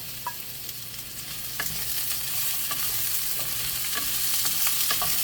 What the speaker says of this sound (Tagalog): Gisa-gisa lang natin until lalabas yung aroma.